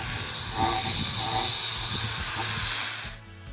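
Finished three-metre wooden boards being sanded, a continuous loud broadband hiss with rough scraping texture that eases off near the end.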